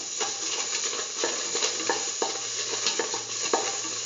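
Semolina sautés in a pan with cardamom pods and salt, a dense steady sizzle punctuated by regular scraping stir strokes, close and alone with no voices.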